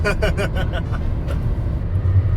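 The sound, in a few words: Lamborghini engine revving as accelerator is pressed uphill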